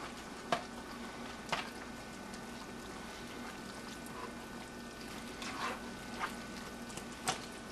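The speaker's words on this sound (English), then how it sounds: "Now stir that up in there." Rice stirred in a pot on the stove for stuffed bell peppers, a low continuous simmering hiss with a handful of spoon scrapes and knocks spread through, quiet and close, no talking.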